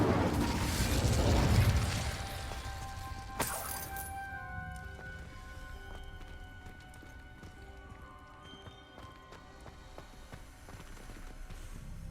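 Incendio fire spell cast in Hogwarts Legacy, a loud whooshing burst of flame that swells over the first two seconds, followed by a sharp crack and then quieter magical tinkling and chimes.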